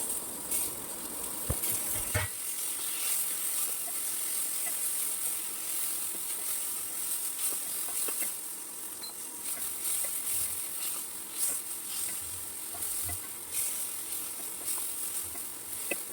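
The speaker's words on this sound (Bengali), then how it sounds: "এখন আমি কেটে রাখা টমেটোগুলো ভালো করে ভেজে নেব।" Chopped tomatoes and green chillies fry in a pan with a steady, close hiss of sizzling oil, broken by a few soft clinks of a utensil stirring, with no talking.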